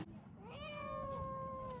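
A single cat in Beijing, China gives a long, drawn-out meow that rises and then slowly falls, heard clearly over quiet background noise.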